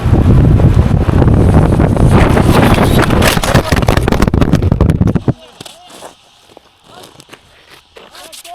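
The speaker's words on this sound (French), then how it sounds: "Il y a vraiment du vent, hein." Strong wind buffets the microphone outdoors in loud, rumbling gusts for about five seconds, then drops to a softer, uneven rustle; people talk in the clip.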